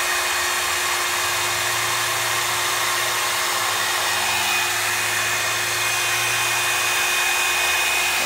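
Revlon Salon hair dryer and styler blowing steadily, a continuous airy whoosh with a motor hum that holds near and constant throughout, with no talking.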